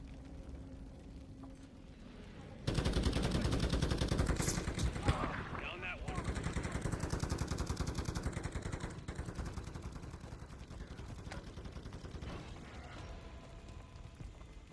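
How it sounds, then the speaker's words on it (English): A sentry gun in Call of Duty Modern Warfare 3 fires a long sustained automatic burst, a fast rattling stream of shots that starts abruptly and keeps going for many seconds, with voices talking over it. "Sentry gun."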